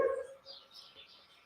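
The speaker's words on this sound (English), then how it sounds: "can you hear the birds outside?" Birdsong drifts in from outside through open windows, a few faint high chirps and twitters at a distance after a brief low sound at the start, with no talking.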